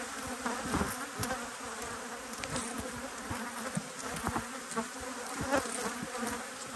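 Honey bees swarm and buzz around an apiary hive, a dense, steady drone of many wings with individual insects zipping close past, continuous throughout with no voices.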